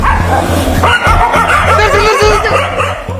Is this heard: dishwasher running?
no